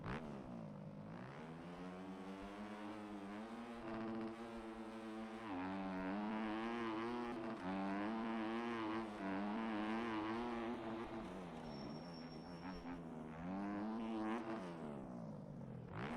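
A dirt bike engine in the MX Bikes supercross racing game revs steadily at the start line, its buzzing pitch climbing and dipping in repeated surges for several seconds, loud and continuous with no voices.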